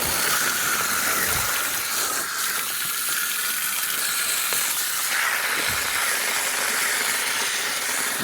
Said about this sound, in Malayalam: നമ്മളങ്ങനെ വെള്ളം തുറന്നു വിടാം